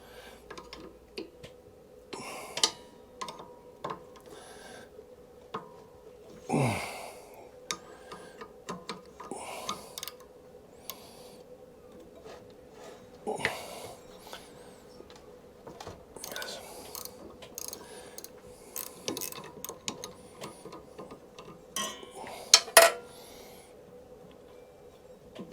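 A 10 mm wrench works bolts loose from the clutch on a Masport Olympic mower's output shaft, with scattered metallic clicks, ratcheting and clanks close by over a faint steady hum.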